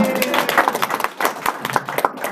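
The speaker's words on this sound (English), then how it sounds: "A round of applause for her." Applause from the audience at a ten-year anniversary celebration for Spur Afrika, a short burst of dense, scattered clapping rising and falling over a crowded room.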